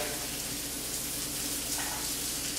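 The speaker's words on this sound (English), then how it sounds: "That water that I just put in there is creating steam." A couple of tablespoons of water tossed into a hot, oiled pan with matchstick-cut vegetables hiss into steam, a loud, dense, continuous sizzle close by that holds steady throughout without talk.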